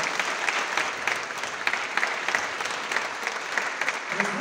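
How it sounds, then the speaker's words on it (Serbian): Steady, dense applause from a stand-up comedy audience, loud and sustained throughout with no break. "Dajte još jedan aplauz za Hrca, stvarno."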